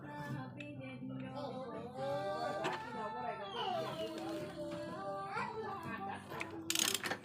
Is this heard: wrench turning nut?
yes